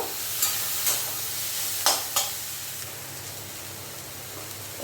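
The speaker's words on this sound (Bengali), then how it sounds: "সাদা জিরের গুঁড়োটাকেও অল্প কষিয়ে নেব" Shrimp with ground cumin is sautéed in a pan, a faint steady sizzle broken by four or five light scraping taps of a stirring utensil early on, then settling into a soft hiss.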